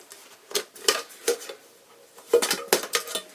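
Trangia camping cookware being handled, light metal pots and pot holder clinking and clattering in a handful of sharp, close knocks and rattles with short quiet gaps between.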